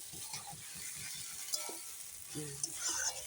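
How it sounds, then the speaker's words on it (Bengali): Small fish and onion stalks being stirred and fried in a pan, with rhythmic scraping strokes of a spatula over a faint sizzle, closer clattering scrapes toward the end. "চচ্চড়িটা দিয়ে এখন এখন ভালো করে নেড়ে টেড়ে পেঁয়াজকলির সঙ্গে কষিয়ে নামাই দেবো"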